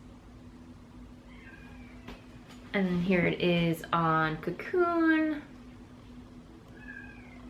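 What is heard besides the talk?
cat howling in the background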